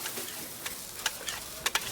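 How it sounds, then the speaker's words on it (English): Steady crackling sizzle of a cheesesteak cooking on a hot grill, with a few sharper ticks and spatula scrapes popping out of the hiss. "this cheesesteak is so freshly grilled, you can still hear it sizzling"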